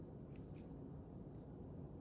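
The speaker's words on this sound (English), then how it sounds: "I'm just gonna use the scissors" A few quiet, crisp snips of scissors cutting while making chocolate-covered Nutter Butter cookies, spaced irregularly over a low rumbling background.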